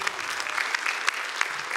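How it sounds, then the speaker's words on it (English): A church audience applauds the worship team steadily, a dense patter of clapping hands with a few sharper claps standing out, sustained throughout. "Give a round of applause to our worship team."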